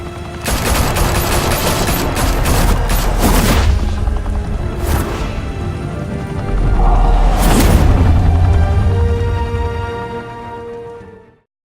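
Bursts of rapid gunfire and heavy booming shots ring out in a Batman: The Telltale Series action scene, loud and close, in several volleys that fade out at the end.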